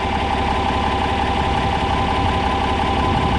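A John Deere 4010 tractor's six-cylinder engine, recently rebuilt and warmed up, idles steadily with a dense, even rumble and mechanical clatter, loud and close with no voices.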